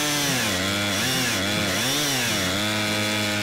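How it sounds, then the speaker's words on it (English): A chainsaw cuts through wood, loud and steady, its engine pitch dipping and rising repeatedly as it bites and eases off. No voices. "So Adam, we had some chainsaw problems, tried to repair it."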